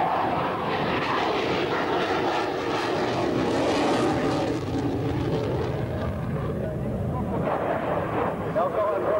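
A propeller airplane flies slowly in a steep nose-high attitude at an air base meeting, its engine drone loud and continuous throughout, with a voice commenting over it.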